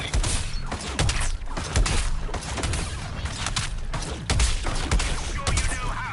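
Dense, loud gunfire and explosive blasts fill the Suicide Squad video game battle. Overlapping bursts and booms run continuously with no break.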